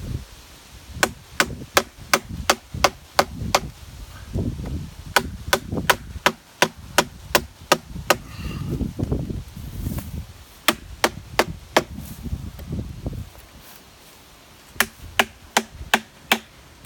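A knife is hammered into a tree trunk to split it, with sharp, evenly spaced whacks in bursts of several strikes, ringing out close and loud over low rustling and scraping between the bursts.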